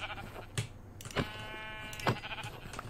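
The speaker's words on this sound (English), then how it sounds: "Oh, is that a sheep?" Sheep bleating in a video game, a few short separate bleats spaced out over the moment, faint and fairly close, with a low background hum.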